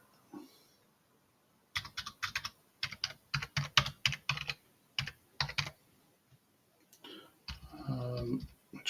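Rapid bursts of typing on a computer keyboard, close and clear, with irregular clusters of keystrokes separated by short pauses; a brief voice-like sound near the end.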